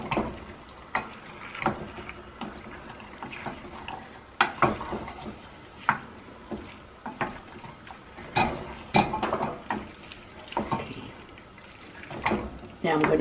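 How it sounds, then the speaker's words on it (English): Potatoes are stirred in a cooking pot on the stove, with repeated scraping knocks and clatters in an irregular rhythm over a soft background sizzle, close and moderately loud. "I'm going to make sure that I stir them first before I put any more potatoes in them"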